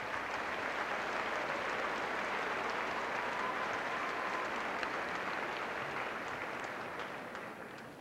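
Audience applause at a 1997 Richmond High School graduation ceremony, a steady dense wash of clapping from a large crowd that holds for several seconds and slowly fades toward the end.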